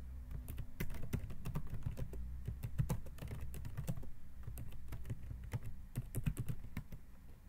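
Rapid, steady typing on a computer keyboard, with dense clicking keystrokes running continuously, close up and fairly quiet, with no voices.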